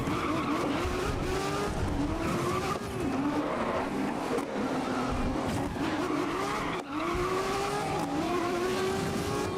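Race car in GRID (2019) takes a slow corner, engine droning and rising with shifting revs while tires squeal and skid throughout, a continuous loud in-game mix with no talk.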